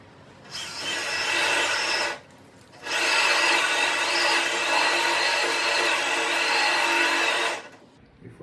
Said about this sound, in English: Time to drill.